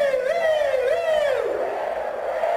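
A concert crowd at a show in Cottbus imitates a wailing ambulance siren, rising and falling together in a loud, sustained howl.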